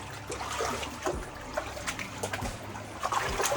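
Very cold water trickles and splashes through a 400-year-old irrigation tunnel, a steady burbling flow with scattered drips and sloshes, fairly close and unaccompanied by speech.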